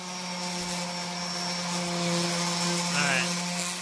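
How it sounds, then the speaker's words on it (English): A power sander works over glue-and-sawdust filled holes on a custom wooden deck gate, giving a steady, close motor whine with a constant hum that swells slightly toward the end. "And then we'll come back over with the sander"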